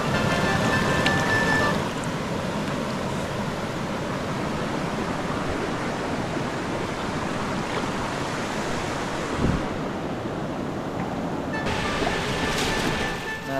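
Rushing water at a waterfall in Korat province, Thailand, pours as a steady broadband roar, loud and continuous throughout, with a brief low thump midway and no talk.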